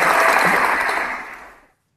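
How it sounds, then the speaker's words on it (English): A short burst of audience applause for Richard closes an interview, loud at first and fading out within about a second and a half. "we all deserve to give Richard a massive round of applause"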